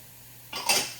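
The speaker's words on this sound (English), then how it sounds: "Stir those in." Onions being stirred into a pot with a utensil, a short metallic scraping and clinking burst after a quiet moment, close and fairly loud, with no talking.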